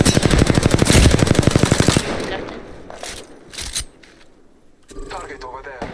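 Rapid automatic gunfire in the game Apex Legends rattles loudly for about two seconds, followed by a few scattered single shots and faint voices.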